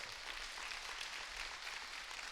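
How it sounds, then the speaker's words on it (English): An audience applauds at a talk, a steady wash of many hands clapping, faint and distant, continuing evenly throughout. "Give him a round of applause."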